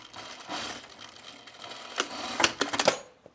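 Sewing machine backstitching a top with tucks, short bursts of rapid needle clatter separated by pauses, ending in a quick series of sharp mechanical clicks.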